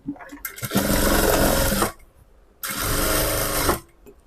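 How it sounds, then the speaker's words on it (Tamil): A sewing machine stitches a lining blouse in two long, steady runs of fast whirring separated by a short pause, loud and close with no talking. "இப்போ இதெல்லாம் நான் தையல் போட்டுக்கிறேன்."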